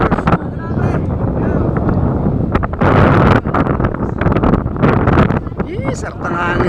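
Wind blows hard across a microphone at a Tagaytay viewpoint, a continuous loud rumbling buffet that swells and gusts throughout, with people talking and cheering over it.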